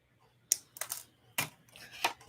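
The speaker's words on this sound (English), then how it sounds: "Then snip off the excess wire" Excess jewelry wire being snipped off with cutters at a jewelry-making table, giving three or four quiet, sharp clicks spread over a couple of seconds in an otherwise quiet room.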